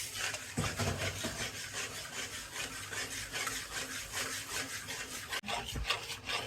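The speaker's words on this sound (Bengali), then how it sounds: "এখানে যে অনবরত নাড়তে হবে।" Egg halwa being stirred nonstop in a pan: close, rhythmic scraping strokes of a spoon against the pan, repeating evenly for several seconds with one short break near the end.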